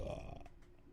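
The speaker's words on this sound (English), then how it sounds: "I had to burp." A single low, rumbling burp from a man, fairly quiet and heard alone for about a second.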